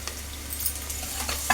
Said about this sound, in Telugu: ఒక 2 నిమిషాలు అయితే ఇది ఫ్రై అవ్వనిద్దాం కదా